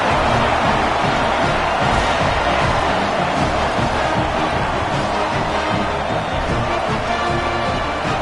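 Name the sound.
football stadium crowd cheering a South Carolina touchdown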